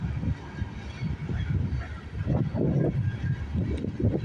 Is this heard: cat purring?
no